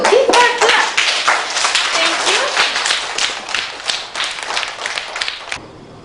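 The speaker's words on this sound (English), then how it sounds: "Keep that clap." A group of people claps hands together in a steady, fairly loud burst of applause that gradually thins out and stops near the end, with some voices mixed in.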